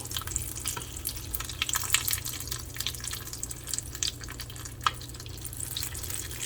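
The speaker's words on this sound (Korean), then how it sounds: "이제 기름이 튀기 시작하네요." Steady, dense crackling sizzle of hot oil as corn is butter-grilled, close and continuous, with occasional sharper pops over a low hum.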